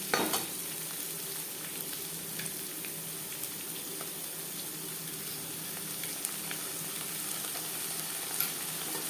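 Garlic cloves sizzle and fry steadily in a pan, with cauliflower and potatoes cooking alongside, giving a continuous bright crackle with occasional pops and no voices.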